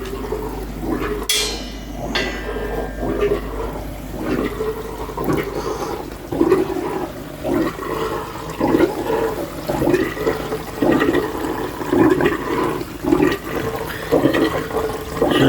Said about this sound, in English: The air pump's working because the water's fizzing.